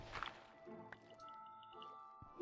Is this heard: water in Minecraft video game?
yes